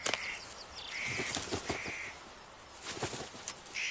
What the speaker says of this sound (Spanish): los pájaros detectan rápidamente a los intrusos y chillan para alertar a sus vecinos